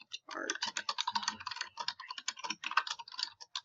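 Rapid typing on a computer keyboard, close and clear, with quick uneven bursts of key clicks and short pauses between them.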